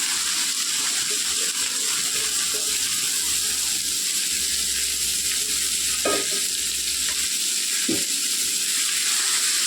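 Chopped Malabar spinach stir-fry being stirred in a pan, with a steady sizzle throughout and a couple of scraping stirs near the end; no talking.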